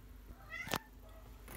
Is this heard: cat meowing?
yes